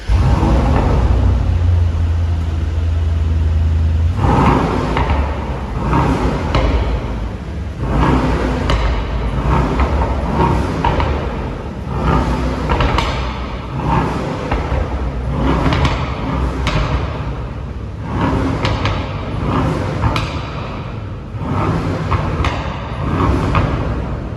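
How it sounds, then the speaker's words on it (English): A Brabus Rocket GT 900 fitted with a Brabus performance exhaust is driven, giving a loud, sustained engine roar with repeated sharp cracks and pops from the exhaust as it accelerates, with no talking. "it's time to demonstrate you the sound of this beast, because there's also a performance exhaust by Brabus."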